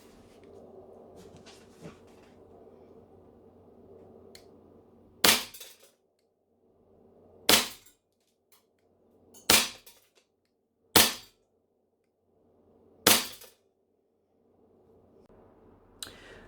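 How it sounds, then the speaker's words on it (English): Airsoft pistol firing green gas, five sharp, loud pops spaced a second or two apart, each with a brief hissing tail, over a low steady background. "So I'm going to shoot 10 rounds now into the wild."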